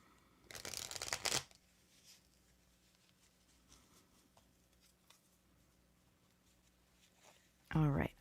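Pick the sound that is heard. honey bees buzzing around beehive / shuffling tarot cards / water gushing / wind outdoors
shuffling tarot cards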